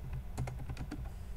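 Typing on a computer keyboard while writing C# code, a quick run of close, crisp key clicks with a couple of louder strokes, heard alone without talk.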